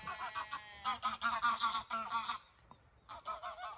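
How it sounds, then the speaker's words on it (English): Greylag geese honk repeatedly in a noisy, overlapping chorus, fairly close, with a brief lull before the calling resumes. "Lots of geese round here. Most of them are grey legs."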